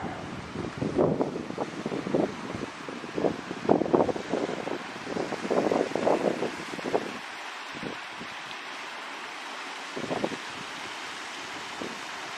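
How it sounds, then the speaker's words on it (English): Wind gusts buffet the microphone beside a waterfall in the Patagonian wilderness at an empty campsite, a steady rushing wash under irregular loud bursts in the first half, easing to a quieter hiss with occasional thumps later. "Waterfall."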